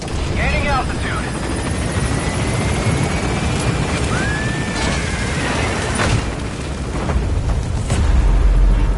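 The Pequod helicopter in Metal Gear Solid V climbs, its rotor roaring steadily throughout, with a radio voice and game sound effects layered over it and a heavy rumble swelling near the end.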